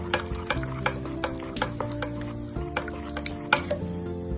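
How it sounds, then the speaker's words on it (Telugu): Cooked lentils are mashed for a rasam, with a close series of wet squishing and tapping strokes in an uneven rhythm, and no talking. "పప్పుని మెద్దేసుకోవాలి."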